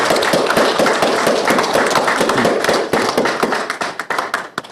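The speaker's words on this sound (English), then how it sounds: "big round of applause" A small audience at a club general meeting gives a burst of applause to welcome new members. Dense clapping from many hands fills the room, then thins into scattered claps near the end.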